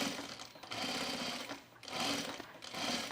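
A sewing machine runs in several quick, fairly faint bursts while stitching a flat-felled seam on denim jean shorts, the whir rising and dipping in a steady rhythm.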